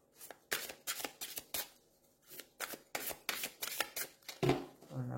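Tarot cards being shuffled close up, a rapid series of crisp riffles and flicks in uneven bursts, ending with a soft thud as the cards are set down and drawn.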